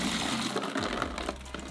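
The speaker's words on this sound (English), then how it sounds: "let me get rid of this water here" Water is tipped and poured out of a KUJO yard shoe, a lawn shoe soaked from wet grass, in a steady splashing gush of under two seconds, close and fairly quiet, with no voices.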